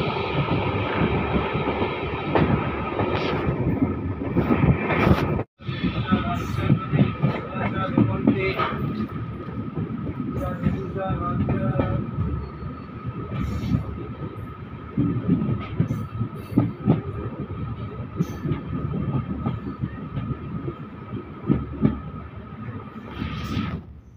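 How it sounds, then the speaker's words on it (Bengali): The 13063 Howrah–Balurghat Express, a new LHB train, rolls into Gazole station with a continuous close rumble and faint rhythmic wheel clatter, broken by one brief dropout early on. "আমাদের ট্রেন এখন প্রবেশ করছে তার পরের হল্ট গাজল স্টেশন।"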